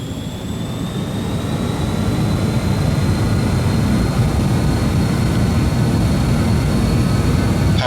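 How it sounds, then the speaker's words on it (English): Jet engines of a BAe 146-300 in Microsoft Flight Simulator spool up for takeoff at Aberdeen, a loud, steady roar with a rising whine building over the first second and then holding. "We're going to now bring the throttles up, looking to match up to what the TMS recommends for us for takeoff."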